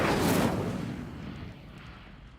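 An Incendio fire spell is cast in Hogwarts Legacy, letting out a loud roaring whoosh of flame at the start that fades away over the next two seconds.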